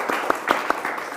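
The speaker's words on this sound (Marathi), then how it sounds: "त्या जोरदार टाळ्या झाल्या पाहिजेत" Audience applause at the Manthan 2022 talk show: a short patter of scattered hand claps with a few sharper individual claps standing out.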